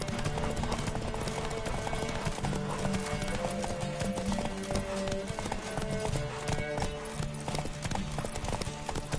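Rapid, steady hoofbeats of a galloping horse in The Witcher 3 video game, loud and continuous, with an occasional whinny and game music layered underneath.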